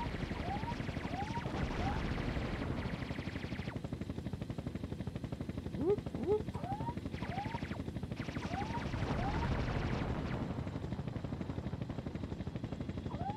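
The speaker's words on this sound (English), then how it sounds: "About the annoying helicopter sound." A continuous rhythmic helicopter rotor chop from a retro PC video game running on a K6-2 with a Voodoo 2 card, steady throughout, overlaid with short chirping game effects and someone talking.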